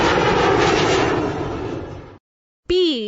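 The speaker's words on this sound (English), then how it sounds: "Airplane." An airplane roars loudly for about two seconds, a broad engine rumble that fades out, followed by a short silence and a brief toned sound.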